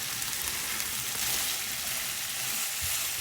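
Food sizzles steadily in a pan over a stove as mustard cooks down, a soft continuous hiss and crackle with occasional faint clinks, quiet and close, no voices.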